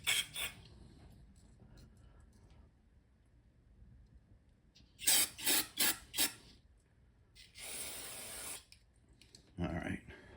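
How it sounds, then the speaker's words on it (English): Brake cleaner sprays in short hissing bursts into a passage of a Holley one-barrel carburetor, several quick pulses followed by a longer steady spray and a final short burst, moderately loud against a quiet background. "let me get some brake cleaner in there"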